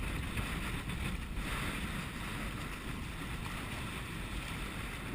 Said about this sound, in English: we got a nice wind here